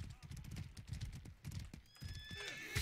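A horse in the medieval combat game Mordhau neighs and clops its hooves amid battle noise, the hoofbeats thudding steadily close by and a whinny rising near the end, with players talking over it.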